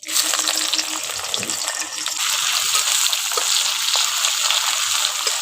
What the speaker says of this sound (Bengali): গরম তেলের মধ্যে পেঁয়াজটা দিয়ে দিচ্ছি।